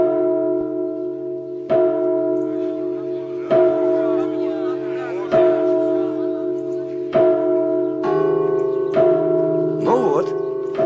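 Church bells ring out in repeated loud strikes roughly every two seconds, each leaving a long ringing hum that overlaps the next, with a final cluster of quicker, clashing peals near the end.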